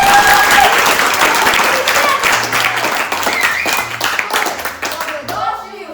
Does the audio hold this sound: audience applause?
yes